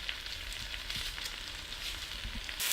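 Friggitelli peppers and thinly sliced onion fry in a pan over low heat, giving a steady soft sizzle with faint crackles and an occasional stir, close and continuous with no voices.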